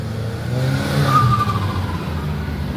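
Renault Clio Trophy rally car at the Rallye des Ardennes, its engine revving and rising in pitch as it passes nearby, steady and fairly loud with no voices.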